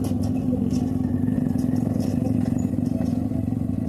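A motorcycle engine runs steadily at close range, a continuous low drone with a faint rattle and no voices.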